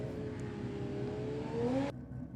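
An Audi race car at a Sydney Dragway drag race. Its engine note climbs steadily as it accelerates, then cuts off abruptly, heard over a constant background drone.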